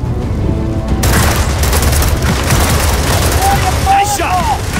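Gunfire during a Gears of War 4 firefight against Indies at a base with comm towers, dense booming shots and rapid bursts filling the scene, with game voices and effects mixed in.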